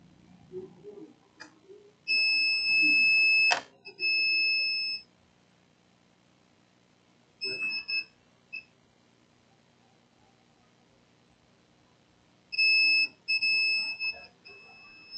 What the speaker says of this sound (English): The multimeter is beeping. We can hear the beep.